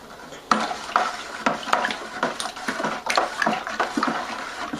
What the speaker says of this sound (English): I'm going to keep stirring that and making sure that it's really dissolved.